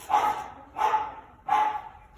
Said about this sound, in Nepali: ओ भाउ भाउ डग डग हौ डग